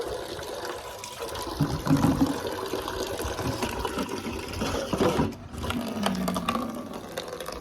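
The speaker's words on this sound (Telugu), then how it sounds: "మన నీళ్ళు పట్టు" Water runs and splashes steadily into a container, a continuous pouring rush with some churning, heard close and without talk.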